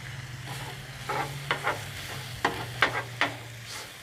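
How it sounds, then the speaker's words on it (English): Hoagie rolls toasting on the cooler side of a Blackstone griddle with a steady low sizzle underneath, punctuated by several short scraping and tapping spatula strokes, nearby and moderately loud, without speech. "I'm just going to take them and put them down on that cooler side of the Blackstone"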